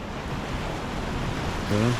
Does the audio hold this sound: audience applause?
no